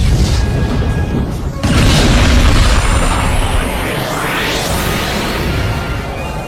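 Splatoon anime battle scene with the tornado launcher special weapon going off: a continuous roaring, booming blast with whooshing sweeps and a sudden surge partway through, loud and dense throughout.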